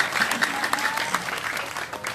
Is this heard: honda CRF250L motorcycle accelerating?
no